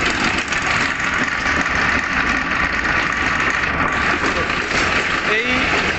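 Six ghani mills crushing mustard seed for oil, running together in a steady, loud mechanical drone and whir with constant grinding texture throughout.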